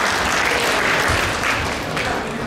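A crowd at a Sunday love feast lecture in a temple hall claps continuously, a loud and even wash of many hands with no break.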